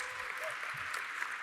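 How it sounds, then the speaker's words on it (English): An audience at an evening lightning-talk session gives a speaker a warm round of applause, a faint, steady wash of clapping heard from a distance throughout. "So let's give Mason a warm applause."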